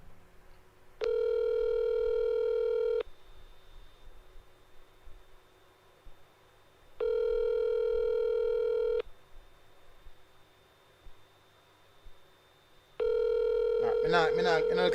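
A landline telephone gives repeated sustained dial tone bursts of about two seconds each, separated by gaps, followed by rapid touch-tone dialing beeps near the end, with faint talk and background noise between.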